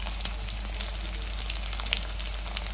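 Garam masala and turmeric frying in a pan for white pasta, a steady close sizzle with quick crackling pops throughout and no talk.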